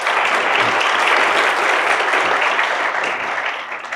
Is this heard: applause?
yes